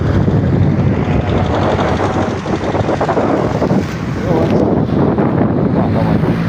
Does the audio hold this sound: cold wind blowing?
yes